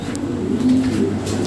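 Pigeons sold as large birds at a market coo in a low, steady murmur, several birds overlapping in a continuous rumbling drone close by, with traffic-like background noise.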